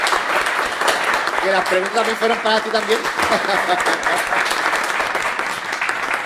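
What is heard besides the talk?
audience applause for the guests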